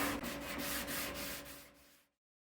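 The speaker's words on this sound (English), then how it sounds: "I went through and hand sanded all the trim at 220 grit" Steady rasping strokes of hand sanding red oak trim with 220-grit sandpaper, repeated back-and-forth rubs close up, then stopping abruptly.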